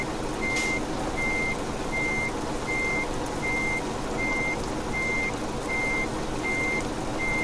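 Truck in Euro Truck Simulator 2 backing up with a trailer in rainy weather, a steady loud engine drone under a regular reversing beep that repeats about every half second throughout.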